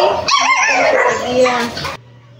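A newly adopted puppy gives a short burst of high yips and whimpering barks close by, mixed with voices, before cutting off abruptly.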